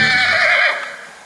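A Crioulo horse at a breeding farm gives one loud, close, wavering whinny that fades out toward the end.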